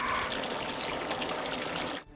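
Water draining out of a canal boat trickles and splashes steadily, close and fairly loud, then cuts off abruptly near the end.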